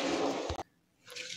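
Cluster beans (guar) being washed in a vessel of water, a loud burst of splashing and sloshing that cuts off abruptly, followed by faint drips and a soft trickle.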